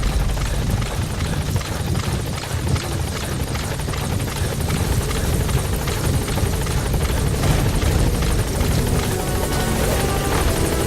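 Helicopter rotor and engine roar at a landing zone in Metal Gear Solid V: The Phantom Pain, steady, loud and close throughout with continuous thumping blade chop and no talk.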